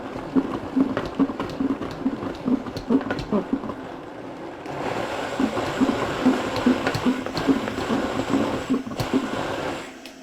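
A kitchen blender churns steadily and loudly with a rough, whirring texture that intensifies midway, its motor running continuously as it blends an oil-free mixture.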